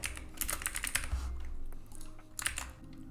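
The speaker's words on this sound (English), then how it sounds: "you can type in the title" Quiet bursts of typing on a computer keyboard, short clusters of light clicks separated by pauses, close and alone with no talk.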